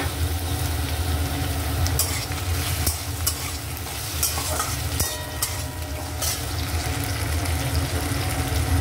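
Tomatoes go into a pan of frying potatoes, a loud continuous sizzle with stirring clatters and scraping of a utensil against the pan, close up and without talk.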